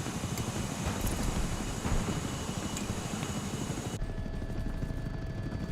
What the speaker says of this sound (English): The transport helicopter.